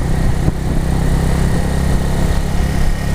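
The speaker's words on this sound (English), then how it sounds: "do not be afraid of the buzzing the buzzing of the engine" A small motorcycle engine buzzes steadily at idle, a close, continuous droning hum with a slight rattle, no talking over it.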